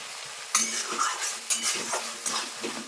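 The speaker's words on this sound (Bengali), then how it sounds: "জল দিয়ে আমার সুন্দরভাবে মশলাটা কষিয়ে নেব" Spice paste for a pangas fish curry is stir-fried with a little water in a pan, with a utensil scraping and clinking against the metal in uneven strokes over a soft sizzle, close by and without talk.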